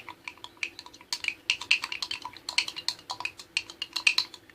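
Food is mixed with pepper sauce and soy sauce using cutlery, giving quick irregular clinks and scrapes against a dish, close up and fairly bright, with no talking.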